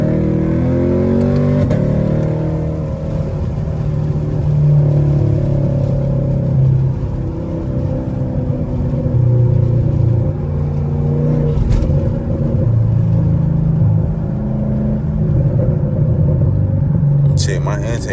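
A straight-piped Camaro SS rumbles low and steady through a night drive, with a few small exhaust pops and crackles near the end, while people talk over the engine drone.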